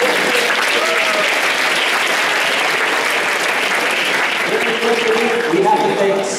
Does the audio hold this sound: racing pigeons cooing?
no